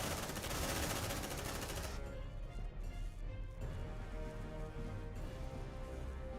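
Rapid automatic gunfire from the video game Aliens: Dark Descent, a dense, continuous rattling burst that later softens into steady crackling combat noise, quiet and without speech.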